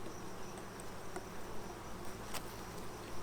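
Honeybees from a Saskatraz colony hum steadily during a hive inspection, a continuous close buzzing of many insects with faint scattered clicks and no talk.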